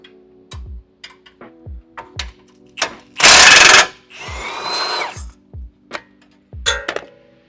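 A ratchet wrench clicks in short bursts while removing sway bar bolts on a Tacoma truck, close and crisp, broken by a loud hiss of air and a rushing, grinding mechanical noise.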